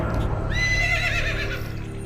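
A horse gives a loud, close whinny lasting about a second and a half, rising then wavering as it fades, over a steady low rumble.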